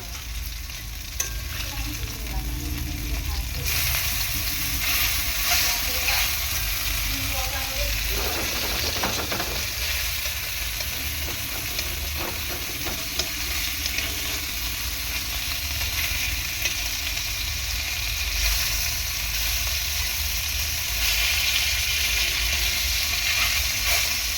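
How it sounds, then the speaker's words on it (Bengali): Amudi fish frying in hot oil in a pan and being flipped, with a loud, steady sizzle running throughout and a few scraping, clattering touches from turning the fish. "এই যে দেখো মাছটা এক এক সাইডে ভালো ভাজা হয়ে গিয়েছে, আমি এখন উল্টে দেব মাছটা"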